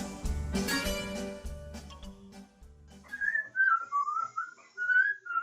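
A person whistles a short wavering melody, clear and close, following a few seconds of quiet instrumental music.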